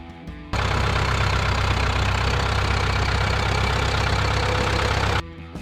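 A 1964-era Ford 5000 mid-range farm tractor idling, a steady low diesel rumble with a knocking pulse that starts abruptly, holds evenly at close range, then cuts off.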